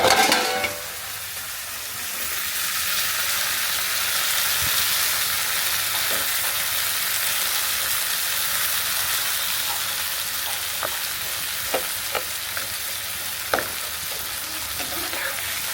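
Greens stir-fry in a pan with onion, green chilli, garlic and karamcha. A loud, even sizzle carries throughout, with an initial burst at the start and occasional light clinks of a utensil against the pan.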